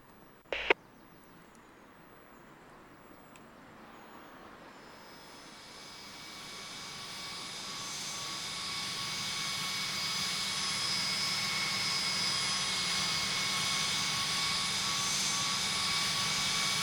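A jet airliner takes off from runway 35 at Salt Lake City in the game Tower Simulator 3, its engine roar swelling steadily from a quiet start into a loud, sustained rumble and whine, preceded by a brief click.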